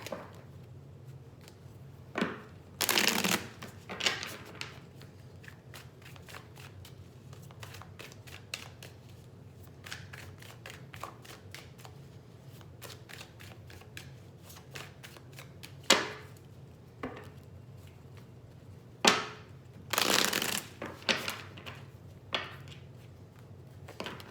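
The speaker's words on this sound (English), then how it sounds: "And I hear cut the deck, so I'm gonna cut it." A tarot card deck is cut and shuffled by hand, giving scattered crisp riffles and taps with a few louder bursts of card noise, close by and with no talking.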